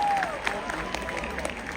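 Audience applause at an outdoor jazz day concert in Yerevan, a broad wash of many hands clapping steadily, with a brief tone at the start and faint sounds under the crowd.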